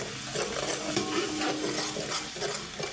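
Besan batter with curd being stirred and mixed in a vessel, a dense continuous wet churning with soft scraping, close and even throughout the short stretch, no talk.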